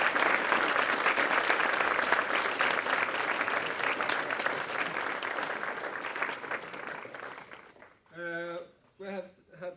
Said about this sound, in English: Perhaps we should all give a big applause for our